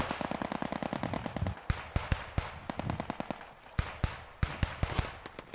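Rapid bursts of gunfire from the Post Scriptum video game, a fast run of loud automatic shots followed by spaced single and short-burst reports, close and alone with no talk.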